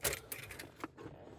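Metal car keys jangle close by inside a Lifan Smily while a car audio amplifier is being set up, a bright clattering burst at the start followed by a few lighter clinks.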